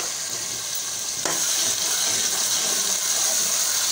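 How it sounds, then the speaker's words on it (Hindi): Garlic-ginger paste frying in hot oil in a pan, a loud, close, continuous sizzle with a stir that sharpens the hiss partway through. "अब हम इसमें लहसुन अदरक का पेस्ट डालेंगे"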